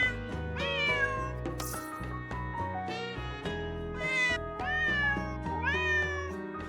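Cartoonish cats in a video game meow repeatedly, several bright rising calls layered over looping, bouncy game music, with no talking.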